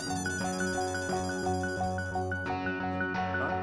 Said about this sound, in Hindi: हवलदार कदम का फोन है।